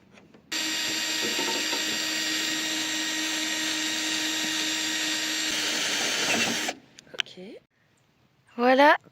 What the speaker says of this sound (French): Maintenant, il va falloir percer pour passer le câble à l'intérieur.